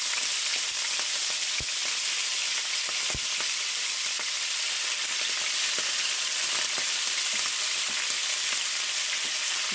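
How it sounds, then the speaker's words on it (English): Thin slices of steak sear in a pan over medium heat, a steady, loud sizzle filling the whole stretch with a few sharp pops and clicks of stirring scattered through it. "You kind of want to just sear the meat."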